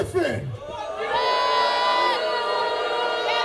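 A wrestling crowd at an extreme deathmatch show in Atlanta roars and jeers at Matt Griffin, loud sustained shouting and whooping from many voices in a packed venue, swelling after a brief dip and holding steady.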